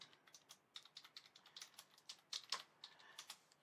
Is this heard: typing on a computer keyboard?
yes